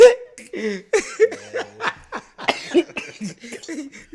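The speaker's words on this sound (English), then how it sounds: "Okay, so I'm coughing again." A few short, raspy coughs from a man with stomach flu break up stretches of talking and chuckling, close to the microphone.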